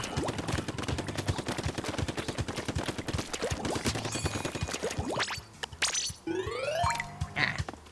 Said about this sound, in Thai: ถ้าเราล็อกแค่คนเดียวก็จะยิงแป๊บเดียว